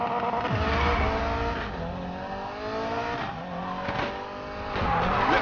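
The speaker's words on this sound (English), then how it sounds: "Let's throw some skids." Cars skid and squeal in the Need for Speed Payback racing game, with engine revving and tire screeches rising and falling over a steady game soundtrack, loud and continuous with no talk.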